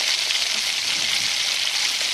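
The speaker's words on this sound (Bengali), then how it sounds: "তারপর দ্বিতীয় পর্বে আবার ভাজছি আমরা" Bread pieces for gulab jamun deep-frying in oil, a steady dense sizzle that holds evenly close by for the whole moment with no voices.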